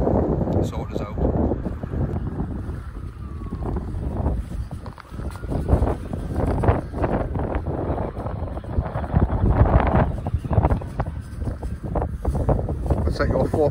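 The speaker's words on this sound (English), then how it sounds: "There's the winds, as you can hear, they have picked up a little bit. They're a little bit more continuous." Wind buffeting a fishing boat out on the water, a continuous rough rumble of gusts against the microphone with no pauses, close and fairly loud throughout.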